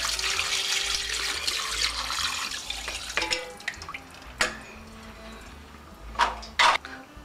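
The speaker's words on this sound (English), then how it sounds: "And now I'm going to pour my boiling hot water over it." Boiling hot water is poured over a whole raw chicken in a kitchen, a steady splashing, trickling stream with a few louder drips and spatters toward the end.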